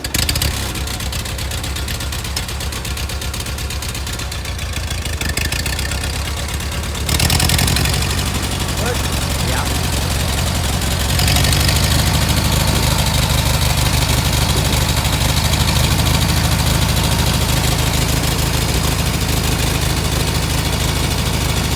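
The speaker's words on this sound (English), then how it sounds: "we're picking our spot right here to go in with the tractor" A tractor engine idles close by at a deer blind building site, a continuous low rumble that shifts in tone and grows slightly louder partway through, steady with no talking over it.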